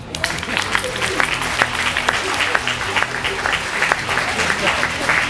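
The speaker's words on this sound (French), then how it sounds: "on peut applaudir aussi les enfants qui chantent." Audience at a Téléthon afternoon in Saint-André applauding children who have been singing; steady, dense clapping from a sizeable crowd continues throughout, with some voices mixed in.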